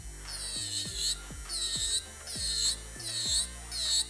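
Electric nail drill with a fine bit filing nails: a whirring motor whose pitch repeatedly rises and falls in short strokes about every half second, close and fairly loud, with no talking.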